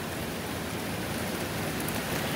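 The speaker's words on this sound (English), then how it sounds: "That sound of that rain." Rain falling outside a school house, a soft steady hiss of drops on surfaces, faint and even throughout the short stretch with no voices.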